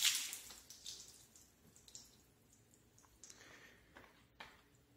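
Water splashes and drips across the waxed paint of a car, light spattering and trickling close by and fairly quiet, with a brief louder splash at the start.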